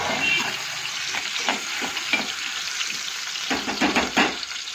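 Cumin seeds sizzle in hot oil in a pan beside cooking drumsticks for a potato-onion curry, a steady close crackle and hiss with a few stirring scrapes and louder spatters.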